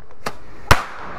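Two firecrackers go off in quick succession, a soft pop followed by a louder, sharper bang, thrown from a motorcycle at close range in an open outdoor setting.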